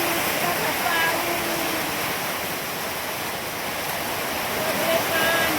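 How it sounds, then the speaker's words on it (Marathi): Heavy monsoon rain pours down outside a farmhouse in a loud, unbroken roar of falling water that continues steadily throughout. "अरे वा वा बघा पाऊस, बघा पाऊस."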